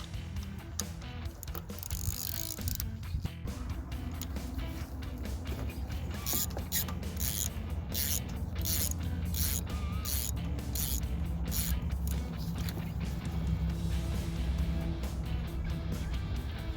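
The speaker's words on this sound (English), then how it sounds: "spark plug socket," Ratchet and spark plug socket turning out the spark plug of a lawn mower, with repeated creaking clicks and metallic ratcheting strokes over steady background noise, close and without speech.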